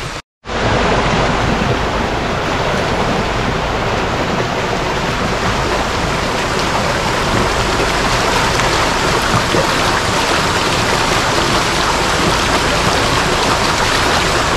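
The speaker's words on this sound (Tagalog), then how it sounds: "ang lakas ng agos ng tubig" Strong river current near the Philippine Eagle Foundation, its rushing water a loud, steady, dense roar that fills the whole stretch without pause after a brief silent start.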